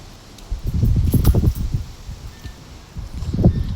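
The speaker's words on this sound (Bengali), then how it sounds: "আজকে প্রচুর পরিমাণে বাতাস হয়" Strong hot wind blowing outdoors in Lebanon, rumbling in uneven gusts that buffet close and loud, easing in the middle and then rising again.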